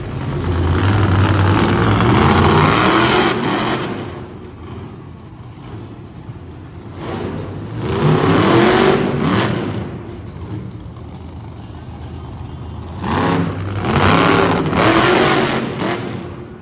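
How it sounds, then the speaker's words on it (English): Monster truck Elbows Up, driven by Joe Briggs, revs its engine loudly at an Edmonton motorsports show, with several rising, surging bursts separated by lower, rumbling idle stretches. "please welcome to the track, Joe Briggs and Elbows Up"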